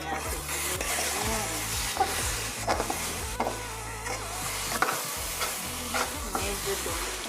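Sweetened banana and jackfruit being stirred in a cooking pan, scraping utensil strokes repeating irregularly over a soft sizzle, close and fairly quiet.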